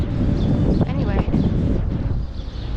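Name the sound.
wind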